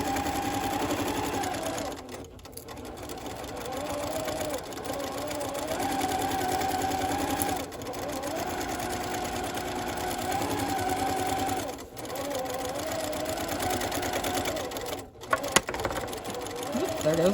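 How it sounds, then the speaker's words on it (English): A sewing machine runs in steady bursts while stitching a pillowcase seam with backstitching, briefly pausing between runs, as someone talks over the close, continuous whir. "let's finish off down to the edge and back stitch again"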